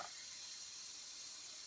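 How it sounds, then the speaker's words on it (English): Boiling water poured into a canning jar of dry pinto beans gives a short, steady hissing, splashing fill, close and fairly quiet. "You fill it up with boiling water"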